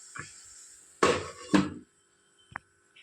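A metal lid goes onto a cooking pan of capsicum pieces being cooked down for a chutney: two close, ringing clanks about half a second apart, then a quiet tap, in an otherwise quiet kitchen.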